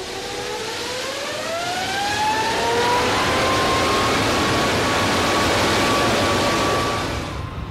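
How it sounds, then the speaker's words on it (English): A jet engine on a test stand spools up to full power during a blade-off test, its loud whine climbing steadily in pitch over a broad roaring rush before levelling into a sustained, howling scream. "the throttles are opened and the engine brought to its full"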